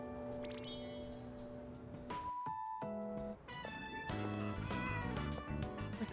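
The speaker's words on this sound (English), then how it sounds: "Was that a cat's meow? Could it be?" A cat meows in Persona 3 Reload, heard over game music with chiming tones and bright jingling notes, the meow rising briefly amid the soundtrack.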